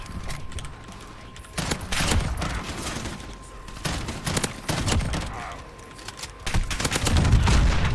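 Rapid gunfire from Call of Duty Modern Warfare beta fills the stretch, bursts of automatic shots cracking in clusters over steady game ambience, with a constant faint tone running underneath.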